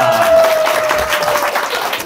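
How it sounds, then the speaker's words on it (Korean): An audience applauds after a speaker at a live Q&A talk on interest rates and real estate: a short, dense burst of clapping from a crowd in a hall, with a faint steady tone underneath. "큰 박수 한번 부탁드립니다."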